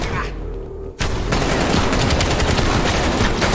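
Rapid bursts of enemy gunfire in Black Ops Cold War, a KGB headquarters level, open after a brief lull and then rattle on loud and continuous as dense automatic fusillades until the end.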